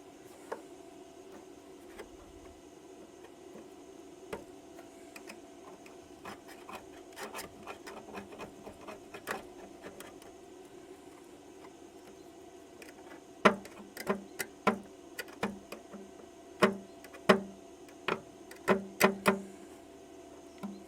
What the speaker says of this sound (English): Clean all the seam sealer off, otherwise it won't weld.